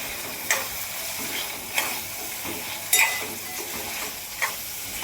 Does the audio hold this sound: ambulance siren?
no